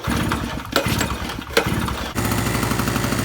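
A two-year-old gasoline portable generator, just dosed with fuel stabilizer, runs steadily and loudly up close, its engine drone continuous with a couple of brief surges and a shift in tone near the end.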